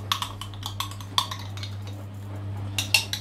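Fork tines tap and prick holes in pizza dough for a crispy kale pizza, a series of light, quick metallic clicks in an irregular rhythm over a low steady hum.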